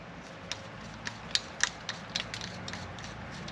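Custom valve caps are screwed onto the tire valves of a Toyota Tundra, making a series of small close clicks and ratcheting ticks, faint and spaced irregularly.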